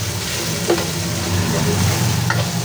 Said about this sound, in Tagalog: Ligis-ligisin po natin yung kamatis.